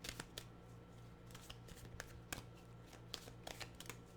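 A tarot deck shuffled fast, giving a run of quick riffling card flutters and crisp taps in an uneven rhythm, close and quiet, with no voices.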